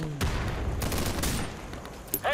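Rapid gunfire in the tactical shooter Insurgency, a close, loud burst of overlapping shots followed by scattered further shots, with a brief voice near the end.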